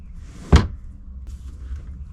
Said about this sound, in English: I can still open the drawer.